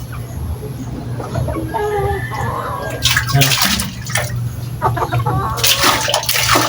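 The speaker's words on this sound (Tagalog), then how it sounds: "Bigyan natin tubig" Water pours steadily into a container, with splashing bursts partway through and chickens clucking in the background.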